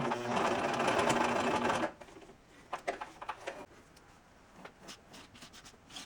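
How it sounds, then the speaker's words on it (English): A sewing machine runs in a fast, steady burst stitching the side seams of a witch costume belt, then stops, followed by faint handling taps and fabric rustles close by. "I'm stitching the belt together at the side seams."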